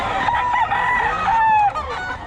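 Gamecock roosters crow close by, one long drawn-out call with another overlapping, amid clucking and background noise at a poultry gathering.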